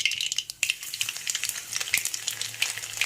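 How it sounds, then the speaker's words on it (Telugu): Chopped garlic frying in oil in a pan for masala brinjal curry: a dense, steady sizzle with crackling pops and occasional spatula scrapes, close and loud, with no voices. "లైట్ బ్రౌన్ కలర్ వచ్చేంత వరకు వెల్లుల్లిని వేగించాలి"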